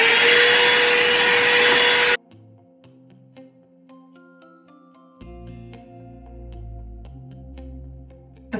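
A hot air brush hair dryer blows loudly with a steady rushing whoosh for about two seconds, then switches off, leaving faint clicks and soft tones.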